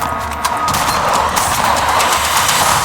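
Gunfire in the video game Alien Breed: Impact, shotgun blasts amid dense, loud, continuous combat noise with crashing impacts, no talk.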